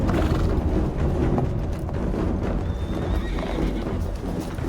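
Horses gallop with steady clip-clop hoofbeats and sharp neighs, a fantasy tabletop-game sound effect of riders fleeing a dragon, layered over dense music that stays loud and continuous throughout.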